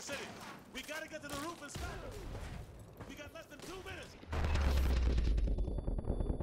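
A flashbang grenade goes off in MW2 Remastered, a loud burst followed by a sustained ringing roar after a few seconds of gunfire and talking.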